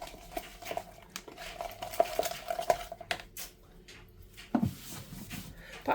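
A spoon stirs apple pie vegan overnight oats in a dish, making soft scraping and sharp clinks against the container in irregular bursts, close and fairly quiet.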